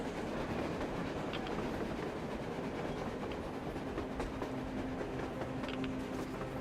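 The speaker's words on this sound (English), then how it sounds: "A train! A damn train on the surface!" A train rolls across the surface in Metro Exodus, a dense continuous rumble with faint clickety-clack, steady and unbroken with no talk over it.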